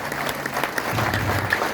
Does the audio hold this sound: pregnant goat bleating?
no